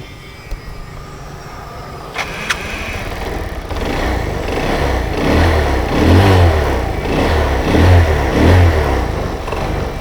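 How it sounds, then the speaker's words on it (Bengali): Second-hand motorcycle at a used bike shop starting up with a couple of clicks, then the engine running and revving in rising, pulsing bursts close by. "আমরা যদি গাড়িটা আপনাদেরকে স্টার দিয়ে একটু দেখাই"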